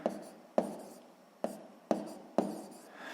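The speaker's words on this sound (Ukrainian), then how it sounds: "Додатні записуємо." Pen writing down numbers for a sixth-grade math exercise, five sharp scratchy strokes in a steady rhythm, close and quiet, with no voices.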